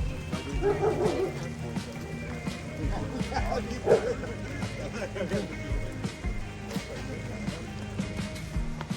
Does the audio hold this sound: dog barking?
yes